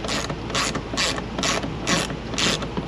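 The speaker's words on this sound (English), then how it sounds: "Honestly, you're just kind of tightening it snug." A hand ratchet tightens the door glass bolts on a 2018 RAM Quad Cab passenger door, a steady series of about six rapid clicking bursts at an even rhythm, close up.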